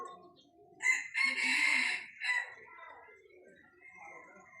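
Chicken crowing and clucking at a zoo, a loud rooster crow bursting out near the start, then softer clucks and bird calls continuing underneath, with a person speaking nearby.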